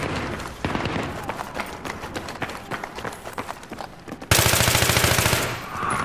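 Rapid automatic bursts from an AEK 971 assault rifle in Battlefield 3, a string of sharp close shots with footsteps, then a sudden loud roaring blast near the end.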